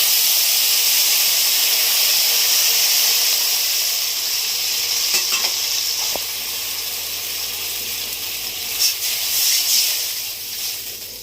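Water poured into a pan of frying fish gives a loud, steady steam hiss that slowly fades, with a few faint clicks and scrapes toward the end.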